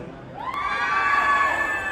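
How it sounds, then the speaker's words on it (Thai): Fans at a fan meeting at a fair scream and cheer together in a loud, high-pitched crowd shriek that swells and holds for a couple of seconds. "ขอบคุณเสียงกรี๊ดที่มีมอบให้กันนะครับ"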